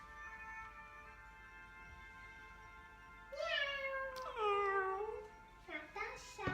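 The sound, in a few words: voice imitating a cat meowing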